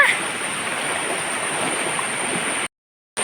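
A shallow, low-water river streams steadily nearby in a continuous wash of rushing and gurgling, then cuts out briefly near the end.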